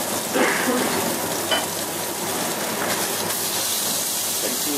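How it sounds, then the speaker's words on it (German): A fish fillet sizzles steadily in a hot frying pan after being turned to sear the flesh side, a loud continuous hiss with a few faint clinks of a spatula. "wenden das Fisch, damit man auf der Fleischseite ebenfalls nochmal anbraten kann"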